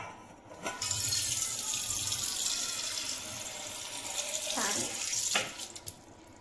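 Tap water runs steadily into a vessel for making tea, a continuous broadband splashing stream lasting several seconds with slight shifts as the container fills, with a brief clatter near the end.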